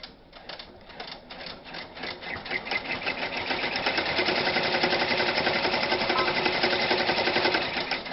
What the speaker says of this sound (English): I'm going to run my tack down stitch, which is just going to hold it in place